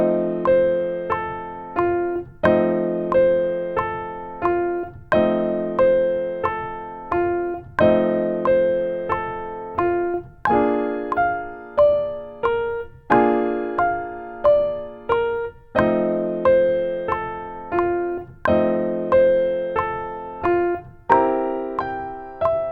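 Repeating groups of plucked chord tones step downward in evenly spaced phrases, each pattern restarting on a steady pulse like a metronome, clear and alone with no talking.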